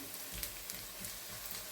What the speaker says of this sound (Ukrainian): Смажуємо цибульку